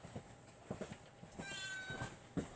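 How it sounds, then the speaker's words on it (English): A cat meows to be let outside, giving a couple of short, fairly close cries over a quiet room background with a few soft knocks. "Mama Cat wants out."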